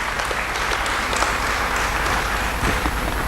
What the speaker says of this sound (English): A round of applause for our own acting VC.